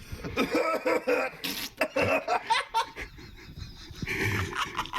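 Repeated harsh coughing fits mixed with breathless laughter, close and loud, in bursts across the whole stretch.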